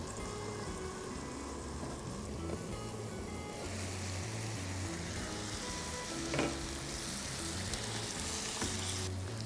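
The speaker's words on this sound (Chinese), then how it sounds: "我们可以用锅盖给它焖一下，把火关小一点。" Twice-cooked pork frying in a covered wok, with a dense, steady sizzle and crackle filling the whole stretch, close and continuous, occasional low clatter underneath.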